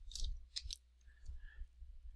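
Quiet, sparse clicking of computer keyboard keys while code is typed, a few sharp taps grouped near the start, then softer scattered clicks over a low background hum.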